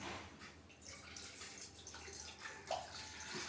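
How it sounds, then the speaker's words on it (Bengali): Water is poured into a steel saucepan, a soft continuous splashing and trickling close by with small gurgles. "জল দিলাম"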